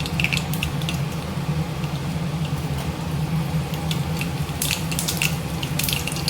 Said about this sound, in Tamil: கடாயை வச்சு எண்ணெய் ஊற்றி இப்போ எண்ணெய் காஞ்சிருச்சு, கடுகு சேர்த்துக்கலாம்.